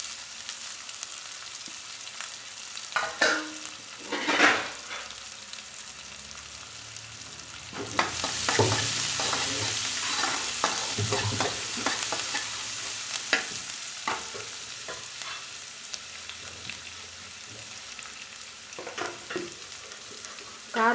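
Chopped onion, mustard seeds, cumin and curry leaves tempering in hot oil for a South Indian beans poriyal, with a soft, low sizzle punctuated by stirring clatters and scrapes, growing denser partway through.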